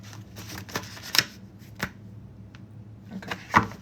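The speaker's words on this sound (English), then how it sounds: "Okay, last shuffle here, spirit." Tarot cards being shuffled up close in a quiet room, giving several crisp riffling bursts with short pauses between them and no talking.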